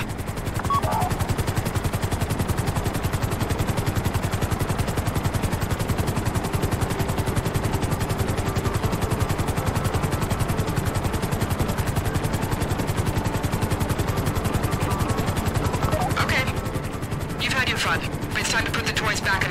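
A helicopter in the video game GTA V flies with a loud, rapid rotor chop that pounds on without a break, joined by brief extra noise near the end.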